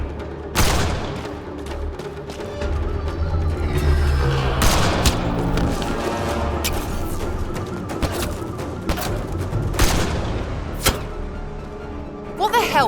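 Gunfire in the sci-fi shooter Mass Effect Andromeda: repeated shots and booming impacts scattered over a continuous combat din, with game music and voices mixed in.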